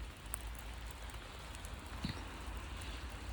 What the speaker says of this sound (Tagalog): Grabe ka ulan